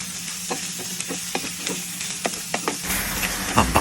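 Chopped octopus pieces sizzle in a hot pan while being stirred, a continuous frying hiss punctuated by repeated utensil scrapes and clicks, close by, swelling louder near the end; nobody speaks.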